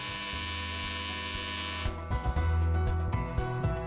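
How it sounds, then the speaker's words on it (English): An electronic door buzzer in a video game drones as a sustained, harsh tone, then cuts into a series of short pulsing bursts, loud and alone with no voices. "the buzzer sounds again"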